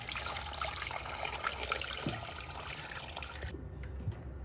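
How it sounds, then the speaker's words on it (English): Water pours steadily into a stock pot holding beef, carrots and onions, a continuous close splashing rush that cuts off abruptly near the end. "Then we're just going to fill it up with the water."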